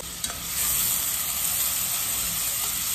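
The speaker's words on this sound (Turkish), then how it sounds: "İlla yağ patlıyor." Olive oil heated in a pot sizzles and pops steadily, a dense continuous frying hiss close by with a small crackle near the start and no talk.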